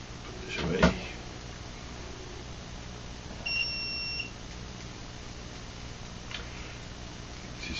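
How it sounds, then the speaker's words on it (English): A Uni-T UT603 LCR meter's continuity tester gives one faint, steady electronic beep of just under a second, with soft handling knocks before and after. "Let's go test its continuity tester and see how it does."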